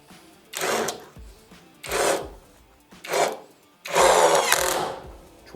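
A cordless power screwdriver from a four-piece battery tool set drives a screw in four short whirring bursts, the last one longest and loudest, heard up close with no talking.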